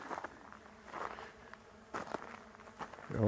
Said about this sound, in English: Can really hear the bees.